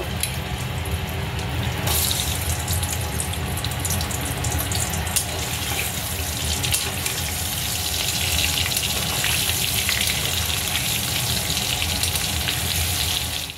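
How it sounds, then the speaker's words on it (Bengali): Potatoes fry in hot oil in a kadai, giving a steady, close, broadband sizzle and hiss that keeps going with no break and no talk. "কড়ায় তেল গরম হয়ে গেছে, এবার আলুগুলো অল্প করে ভেজে নেব।"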